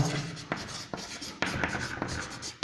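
Chalk or marker scratching across a board in a classroom, several short strokes in quick succession under a low hum of the room.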